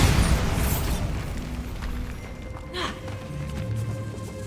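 A Bombarda spell detonates in Hogwarts Legacy, a loud, rumbling explosion that opens the clip and slowly decays into a low, lingering roar with faint debris crackle.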